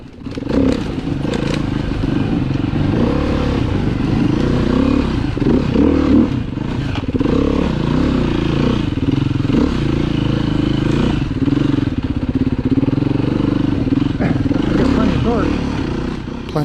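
A four-stroke 390 dirt bike rides a rocky trail, its engine droning loud and close with a steady, rough rumble, overlaid by rattles, scrapes and clattering from the ground and bike parts throughout.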